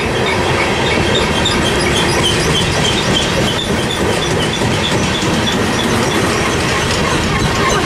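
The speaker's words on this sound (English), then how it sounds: "I'm gonna get the rest of the train this time" CP 7012's freight train rolls steadily past near Tehachapi, a continuous loud rumble of railcars with rhythmic clickety-clack from the wheels and occasional high wheel squeal, heard close and alone without voices.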